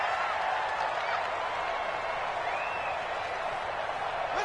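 Stadium crowd noise in a PlayStation 4 football video game forms a steady, dense roar that holds evenly throughout with no clear breaks or peaks.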